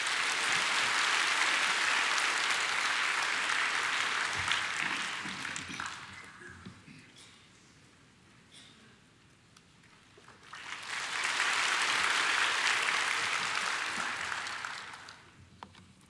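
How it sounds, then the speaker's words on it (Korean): Loud church congregation applause during a worship service that swells, fades to a lull, then rises again into another strong burst of clapping before tapering off. "나오실 때 우리 박수로 환영하겠습니다"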